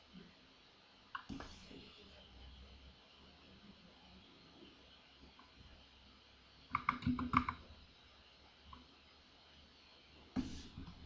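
Keys clack on a computer keyboard while Kotlin Gradle code is typed, in short sparse bursts of quick taps with long quiet gaps, close and faint, with no talk over them.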